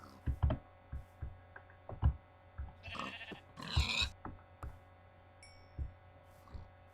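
Sheep bleat in the Minecraft video game: a couple of short, faint bleats rise midway over a quiet hum, set among soft, regular clicking footsteps.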